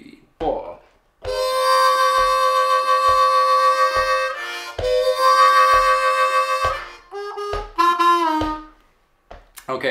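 Bb harmonica plays the second lick, long bent draw notes pulsing over a steady beat, in two sustained phrases and then a shorter run, close and loud with no talking.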